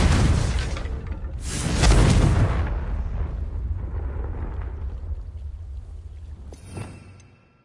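A Confringo fire spell goes off in a PS4 video game as a loud, booming blast near the start, with a second big surge around two seconds that trails into a long rumbling decay and a brief late burst.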